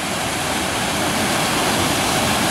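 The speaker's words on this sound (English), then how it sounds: "Here it is, Arthur's Waterfall, a bit closer than before." Steady, loud roar of a waterfall in woodland, known as Arthur's Waterfall, heard close up as continuous broadband rushing water with no talking.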